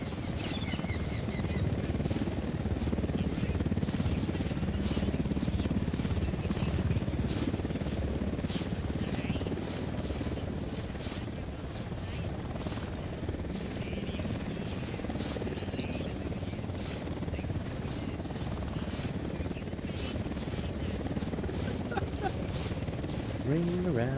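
A helicopter in the video game Ghost Recon: Wildlands keeps up a continuous rotor drone with a steady buzzing texture, while voices can be heard talking over it.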